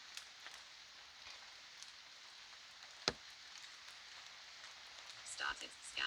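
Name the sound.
rain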